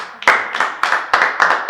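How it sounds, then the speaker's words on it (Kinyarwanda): Audience clapping at a Rwandan reality show season finale, held in front of friends and family. It comes as loud, close, rhythmic bursts of hand claps, roughly three per second, cutting in and out sharply. "Mushatse mwabwira amashyi."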